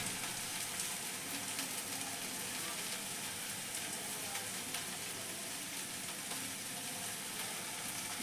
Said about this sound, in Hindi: ये मैंने भिंडी भी डाल दी। अब बस मसाला डाल दूँगी, नमक डाल दूँगी और इसे भूनना पड़ता है